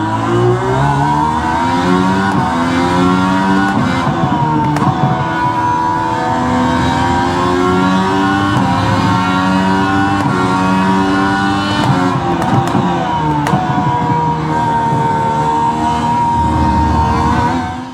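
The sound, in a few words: IndyCar engine in racing video game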